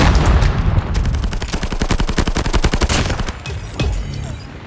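SMG gunfire in Call of Duty Mobile multiplayer, hip-fired: a dense, rapid automatic burst of sharp shots runs loud through most of the clip, then trails off into scattered single cracks.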